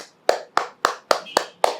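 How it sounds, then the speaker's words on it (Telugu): Hands clap at a yoga day session, seven sharp, evenly spaced claps in a steady rhythm, close and crisp, with quiet gaps between them. "రోజు 100 చప్పట్లు కొడితే బాడీ మొత్తం యాక్టివేషన్ జరుగుతుంది"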